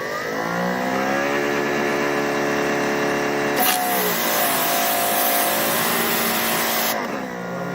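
A Greenworks 3000 PSI electric pressure washer starts up with a steady, loud motor whine, then bursts into a harsh, hissing spray that runs for several seconds before cutting back. No one speaks.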